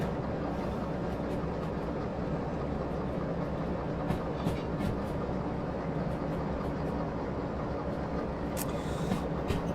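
A train rolling on rails in the railway simulator Derail Valley, a steady low rumble of wheels and car noise with faint intermittent clicks and squeaks, continuous throughout and without speech.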